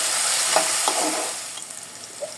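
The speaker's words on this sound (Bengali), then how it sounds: "পেঁয়াজ মরিচ হাফ মতো ভাজা হয়ে গিয়েছে, একদম ব্রাউন হয়নি।" Onions and chillies half-fried in a pan, a close crackling sizzle with a few spatula knocks early on, the frying easing and growing quieter toward the end, with no talking.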